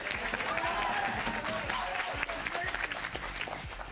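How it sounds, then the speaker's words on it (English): Dense, loud applause from an audience for a gracious participant at a club event, the clapping mixed with voices and cheering, fading slightly toward the end. "I love applause"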